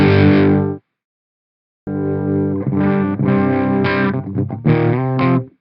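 Electric guitar through a tube amp with gain, distorted chords and riffs in short bursts. One ringing chord stops, a pause follows, then a choppy rhythmic phrase plays close and loud.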